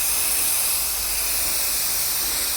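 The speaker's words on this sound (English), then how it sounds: "Then I'll go ahead and spray this." An aerosol can sprays adhesive onto a board covered with paper: one steady, close, loud hiss that runs without a break.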